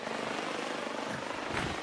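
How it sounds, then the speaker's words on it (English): Helicopters in a K-pop music video, a steady broadband rotor roar with a fluttering low-end beat that fills the whole short stretch at moderate level, with no talk. "The helicopters."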